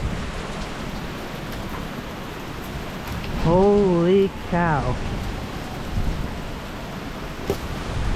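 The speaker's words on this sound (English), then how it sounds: "Okay, yeah, this is definitely the storm." Heavy rain pours steadily during Hurricane Ian in Orlando, a dense broadband wash filling the whole stretch, with a brief startled voice exclaiming partway through; no distinct thunderclap stands out.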